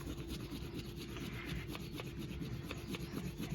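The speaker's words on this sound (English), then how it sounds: "So all I'm going to do is take a brown crayon, and I am just going to scribble." Brown crayon scribbling on paper in quick back-and-forth strokes, a close, soft, continuous rubbing rasp with no talking.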